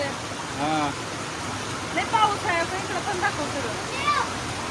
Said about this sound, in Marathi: ऐका ना एवढा पाऊस चालू आहे